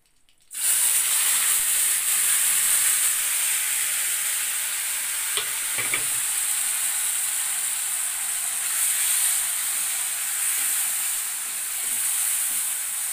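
A spice paste of onion, tomato, chili and turmeric frying in a pan, giving a constant bright sizzle and hiss that starts abruptly and continues unbroken, with a couple of faint knocks midway.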